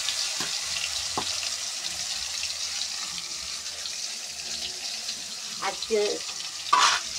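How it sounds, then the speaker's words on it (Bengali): Pointed gourd pieces frying in hot oil, a steady close sizzle throughout, with a few short utensil taps and a brief spoken word near the end. "পটলগুলোকে লাল লাল করে ভেজে নেব।"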